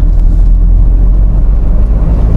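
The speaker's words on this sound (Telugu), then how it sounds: "నేను 2000 rpm దగ్గర గేర్ని మారుస్తున్నా" A Mahindra XUV300's engine accelerating through the gears at around 2000 rpm, giving a loud, steady low drone with wind and road rumble inside the cabin and no audible talk.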